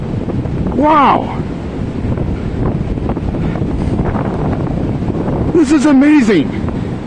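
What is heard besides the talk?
wind howling in snowy winter woods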